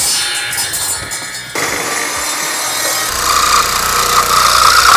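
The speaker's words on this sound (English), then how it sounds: "So I'll actually cut that 8 inches long." Hand sawing through a wooden board to cut it 8 inches long for a wine rack, a steady rasping stroke sound that starts quieter and grows louder and rougher through the cut, close up and with no talk.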